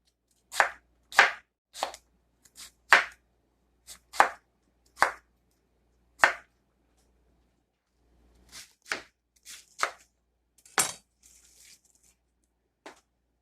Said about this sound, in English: cortar o nabo.